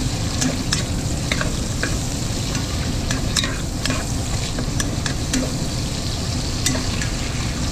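Korean black bean noodle ingredients stir-fried in a pan at home, a steady close sizzle with repeated scraping and clanking of a utensil against the pan, no voices.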